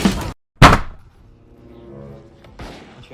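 Gunshots crack in a shooter video game, two sharp loud reports close together, followed by a quieter tonal game sound and another softer hit.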